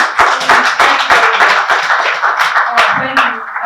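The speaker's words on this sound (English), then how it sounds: "A round, if you can please clap." An audience at a Rome Business School Nigeria business fair clapping, a loud, close burst of many hands with fast, dense claps sustained for a few seconds, voices mixed in beneath.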